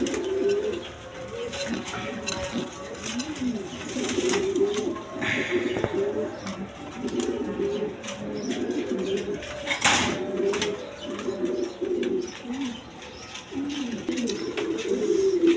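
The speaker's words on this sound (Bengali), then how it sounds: "এখানে একটা নর কবুতর আছে দেখেন বিগ সাইজের সিরাজি নর" Male Sirazi pigeons, one big-sized, coo in repeated low throaty rolls at close range, with someone talking over much of it and a few faint chirps in the background.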